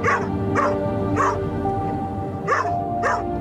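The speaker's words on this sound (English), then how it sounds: "This is the third lot of trainee assistance dogs to visit the school." Several trainee assistance dogs bark at a school, about five sharp barks spaced across a few seconds over a steady busy background, with no talking.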